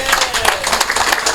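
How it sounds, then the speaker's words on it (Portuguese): An audience at a centenary tribute event breaks into dense, steady applause, many hands clapping together loudly and close for the full length with no pause. "que eu peço a salva de palmas para ele"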